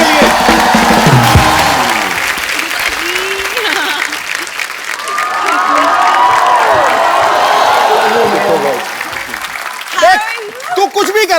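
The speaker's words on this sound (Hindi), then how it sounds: "जोरदार तालियां एक बार टाइगर और जैकी के लिए" A studio audience applauds and cheers for Tiger Shroff and Jacqueline on a comedy talk show stage, loud sustained clapping with whoops, while a host talks over it throughout.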